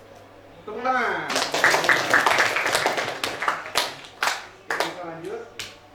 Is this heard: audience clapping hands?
yes